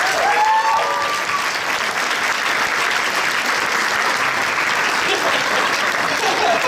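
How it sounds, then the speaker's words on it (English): Steady, dense applause from the audience at a horror convention panel, heard close and fairly loud with a brief cheer at the start, continuing evenly throughout. "You think keep clapping, it's fine."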